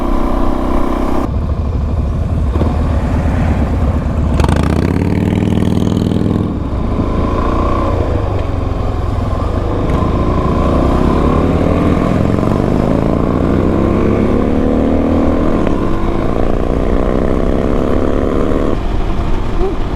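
Suzuki DRZ400 dirt bike with a Rekluse automatic clutch being ridden, its engine droning loud and close with revs rising and falling over rough ground and wind buffeting throughout.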